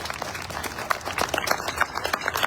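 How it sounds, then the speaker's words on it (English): A live commemoration crowd for the Victory or Death and Alamo Statewide Stampede launch applauds its speakers, steady mixed clapping from many hands that holds at even strength throughout, moderately near with no voices on top. "Please, another round of applause for all of our speakers."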